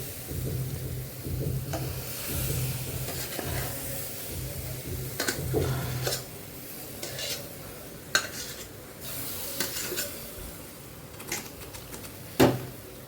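A spoon scrapes and stirs as a jackfruit and jaggery mixture is poured little by little into semolina in a hot pan, with a faint sizzle underneath and occasional sharp clinks against the pan.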